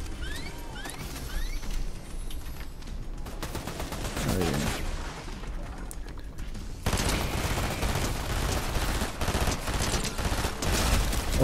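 NPC gunfire in the video game Fortnite crackles in scattered bursts of sharp shots, with some quieter game sounds between them. Heavier, denser firing continues through the second half, and there is no talk.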